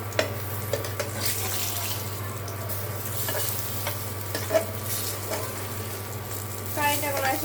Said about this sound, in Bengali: এদিকে এই যে বেগুন ভেজে নিচ্ছি